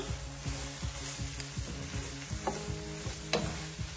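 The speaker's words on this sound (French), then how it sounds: "J'ajoute notre jambon. Je tourne." Rice and vegetables with ham sizzle in a frying pan while being stirred, with a quiet steady frying hiss and repeated scraping strokes of a utensil at close range.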